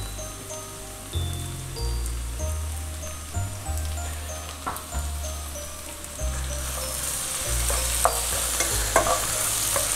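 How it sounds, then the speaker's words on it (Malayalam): Pidi rice dumplings simmer in a pot, giving a steady soft bubbling and crackling hiss over a low, uneven hum, with no voices throughout. "ഇതൊന്നും കൂടെ തിളച്ച് കഴിഞ്ഞാൽ നമ്മുടെ പിടി റെഡിയാവും."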